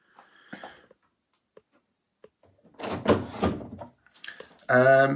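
The detergent drawer of an Indesit IWC 71453 7 kg washing machine slides open with a few plastic clicks and thunks, close by, among scattered rattles and handling noises.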